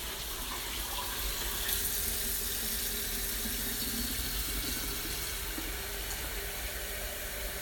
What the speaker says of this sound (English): Listen to that water run.